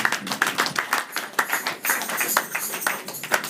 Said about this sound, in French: On peut applaudir pour la gloire de notre Seigneur.